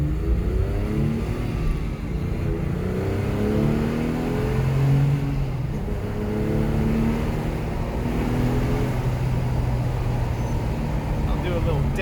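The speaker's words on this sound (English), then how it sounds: "You can tell the car sounds fantastic." A Porsche 997 Gemballa Avalanche tribute car accelerates, its engine rising in pitch through gears as a steady, full exhaust roar heard from inside the car, continuous throughout.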